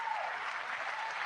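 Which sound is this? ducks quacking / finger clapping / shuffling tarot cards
finger clapping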